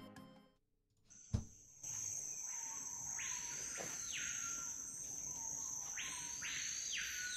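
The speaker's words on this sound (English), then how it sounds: "Crazy. That's a bird." A jungle bird in Brazil gives repeated swelling, buzzy whistled calls in two bursts, set against a constant high insect drone and a sharp knock near the start; moderately close, no talk.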